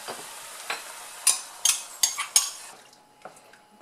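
A spoon stirs cream into Brussels sprouts in a pan, giving a few sharp clinks against the metal over a soft, quiet simmer.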